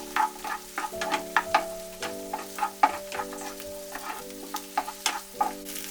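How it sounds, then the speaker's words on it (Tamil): Shallots sautéing in hot oil for a brinjal gravy, giving a steady sizzle with repeated stirring scrapes and clinks of a spoon against the pan; no one speaks. "வெங்காயம் நல்லா வதங்கிடுச்சுங்க"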